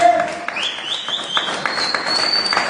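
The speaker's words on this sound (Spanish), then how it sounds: "aplaudir a papá, aplaudir" Church congregation applauding during a sermon, a steady dense patter of many hands throughout, with a faint sustained tone and murmured voices underneath.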